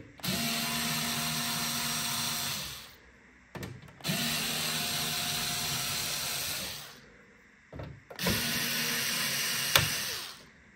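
Electric screwdriver whirring on a dusty PS4 Pro console, three long steady high-pitched motor runs of about three seconds each, separated by brief pauses and small clicks, close by with no talk.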